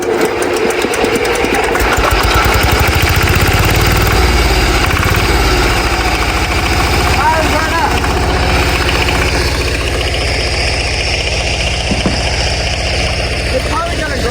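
A homemade diesel engine on a Sears garden tractor cranks with a rhythmic ticking chug, then catches and settles into a loud, steady idle up close.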